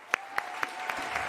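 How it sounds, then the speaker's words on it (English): A handful of sharp, separate hand claps at an even pace, fairly close, at the end of a youth arts celebration night, with light crowd noise between them. "One more time, a round of applause to close the night."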